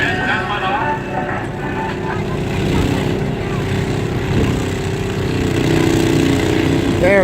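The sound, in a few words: tractor launching off the line at fair track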